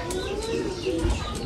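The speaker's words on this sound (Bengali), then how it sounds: "এটা হচ্ছে আমাদের দ্বিতীয় কবুতর।" A racing pigeon just trapped after a 350 km race gives a short run of low, rolling coos, close and fairly soft against a quiet background.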